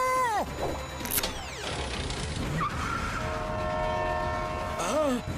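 Cartoon train as characters board, a loud horn and screeching whistles sweeping up and down over rumbling wheels and clatter, with voices talking over the din.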